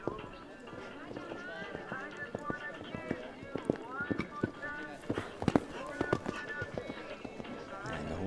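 Hoofbeats of a show jumping horse ridden in a hackamore in an arena at an FEI Jumping World Challenge qualifier, a steady run of muffled thuds under nearly constant commentary.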